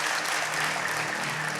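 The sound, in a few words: audience clapping at magic show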